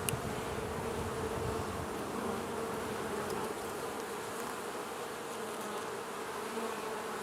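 Honey bees buzz steadily around an open hive frame filled with honey and pollen, a dense, continuous drone close by with no talking.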